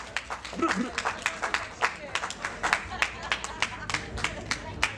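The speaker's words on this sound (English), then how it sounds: "Give yourself a little round of applause" Sparse, scattered clapping from a festival poetry-tent audience, individual claps distinct and irregular over about five seconds, fairly close, with a voice talking over it at the start.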